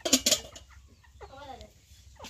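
A broiler hen walking around a home yard gives a few short, close clucks after a sharp burst of noise, with quiet gaps between the calls.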